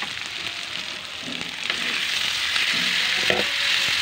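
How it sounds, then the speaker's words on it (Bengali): Mutton frying in a pan with garam masala of cardamom, cinnamon and pepper gives a steady, close, loud sizzle with occasional stirring scrapes. "গরম মশলা দিয়ে কষিয়ে নিচ্ছি।"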